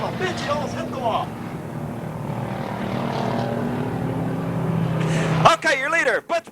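Race cars roar around an off-road track at a 1987 Raven Raceway event, a steady engine drone throughout with a nearer car sweeping past near the end; an announcer talks over it.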